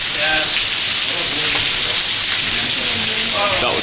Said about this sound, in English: This is the most rain I have ever seen.